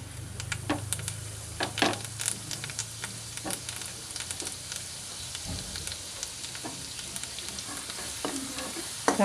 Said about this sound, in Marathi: खोबरं लसूण आपण टाकून घेऊ।